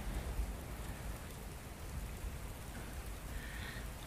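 Steady, dense rain falls during a thunderstorm, a continuous broadband wash of drops on surfaces with low rumbling underneath, even and unbroken throughout with no voices.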